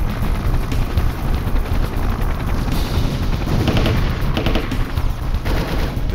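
Machine gun fire during the 1983 Grenada operation, a dense, loud, continuous roar of rapid bursts blended with rotor-like rumble, no voices.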